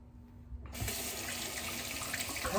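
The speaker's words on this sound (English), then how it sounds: "Apologies for the running water." A tap starts running into a sink at a home shaving setup, a steady close rush of water that begins abruptly and continues without a break.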